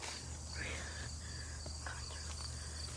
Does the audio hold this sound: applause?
no